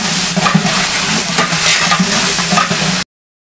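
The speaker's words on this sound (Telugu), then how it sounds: "ఇలా మంచిగా ఫ్రై అయ్యే వరకు అయితే ఆయిల్లో వేయించుకొని" Mustard seeds, cumin, curry leaves and green chillies frying in hot oil for an aloo tomato curry, a loud, close, continuous sizzle with crackling pops and stirring scrapes, then an abrupt cut to silence.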